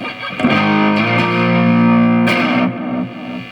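Distorted electric guitar chords through a Zoom G1 FOUR's Distortion Plus effect on lower gain ring out with a gritty, saturated tone, sustaining for a couple of seconds before a fresh strum, played alone.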